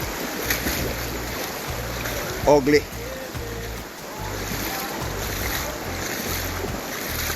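Floodwater of the PG River in Jamaica during Hurricane Melissa, a steady rushing wash mixed with wind buffeting the microphone, with a person speaking briefly over it.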